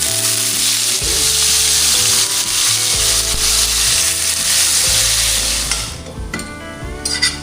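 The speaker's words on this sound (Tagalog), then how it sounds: "Prito muna tayo." Sliced milkfish (bangus) frying in hot oil in a pan, giving a loud, steady sizzle that runs throughout, with stirring and occasional utensil clinks over it, then thinning out near the end.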